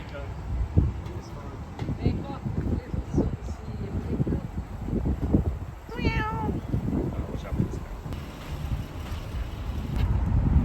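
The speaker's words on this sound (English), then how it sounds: "There's a cat underneath our car." A cat meows from underneath a parked car on a Puerto Rico roadside, one clear rising cry standing out over steady wind buffeting the microphone and faint background noise.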